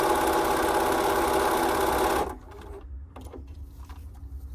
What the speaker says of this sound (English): So now the machine is giving me any stitch that I asked for.